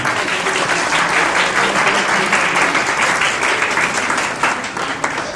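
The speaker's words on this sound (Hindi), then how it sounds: "तालियां।" Wedding guests at a church mehndi gathering break into loud, sustained applause with cheering, a dense wall of clapping that holds steady for several seconds before thinning slightly at the end.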